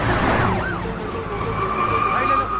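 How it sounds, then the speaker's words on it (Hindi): A police siren wails up and down close by, with the rumble of traffic underneath. "पुलिस की गाड़ी आ रही है"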